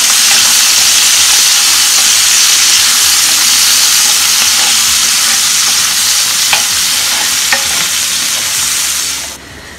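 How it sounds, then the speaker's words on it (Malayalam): Sliced onions frying in hot oil in a pan for Goan prawn balchao, a loud, steady broadband sizzle with a few sharp pops near the end before it cuts off abruptly, no voices. "സവാള ഒരു ലൈറ്റ് ബ്രൗൺ ഷെയ്ഡ് ആവണ വരെ നമുക്കൊന്ന് ഫ്രൈ ആക്കണം"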